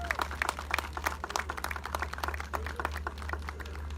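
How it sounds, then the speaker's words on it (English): An audience at a 2020 senior graduation ceremony for the Richard Wright Public Charter Schools claps in a dense, uneven patter of individual hand claps over a low steady hum, with no talk. "Let's give them a round of applause."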